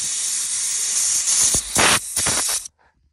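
Compressed air is blown out of bolt holes on an F250 with a ZF5 transmission during clutch removal, as a steady loud hiss broken by several sharper, louder blasts that then cut off abruptly.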